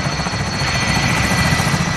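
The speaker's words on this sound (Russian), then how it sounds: "Вертушка ушла." A helicopter in Call of Duty: Warzone thrums loudly with a fast, steady rotor chop that holds close and constant throughout, no voices present.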